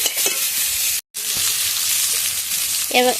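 Spices for a fish curry with drumstick and rohu sauté in a hot pan, producing a loud, continuous close-up sizzle broken by a brief silent cut and some stirring scrapes, with a faint voice near the end.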